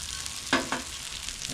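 Hash browns frying on a Blackstone griddle: a steady close sizzle broken by two quick spatula scrapes as they are flipped, then a further light scrape, with no voices.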